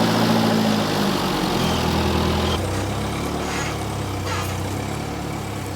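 A vehicle engine idles and rumbles low and steady, close by, while it tows a car. The tone shifts partway through as the load changes, and there is no talk.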